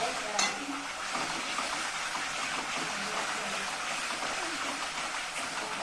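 Black masala frying in a pan for a vegetable dish sizzles steadily while a spoon stirs it, a continuous close hiss with a few scraping clinks and no talk.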